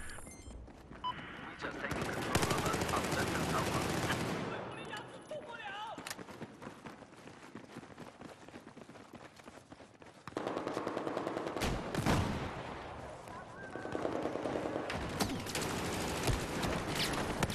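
Rapid gunfire from the video game Battlefield 4 fills the clip, with sustained automatic bursts and sharp single shots, loud and dense, swelling again after a brief lull with distant explosions mixed in.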